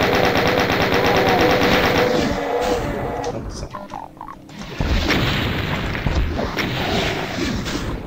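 A weapon in Doom (1993) fires in loud, rapid repeating bursts with booming impacts, briefly dropping off mid-way before the firing resumes, heard alone without talk.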